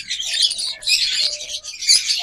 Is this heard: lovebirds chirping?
yes